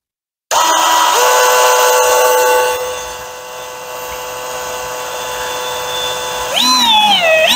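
A power drill cuts clearance holes in a Bug-A-Salt gun, starting abruptly with a steady high whine that dips slightly under load and then rises and warbles near the end, loud and close.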